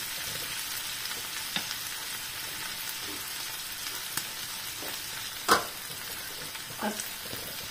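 Potatoes cooking with all-purpose cream in a pan give a steady, close sizzle and bubbling, broken by a few sharp clicks and a louder stir now and then, with no voices.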